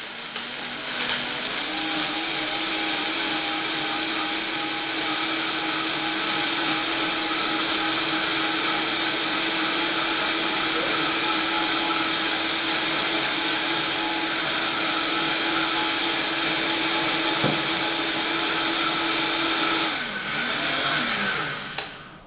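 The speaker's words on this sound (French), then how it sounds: "Je branche mon Vitamix et on y va." A Vitamix blender runs steadily for about twenty seconds, blending dates into juice, with a loud, constant motor whine that holds its pitch before spinning down at the end.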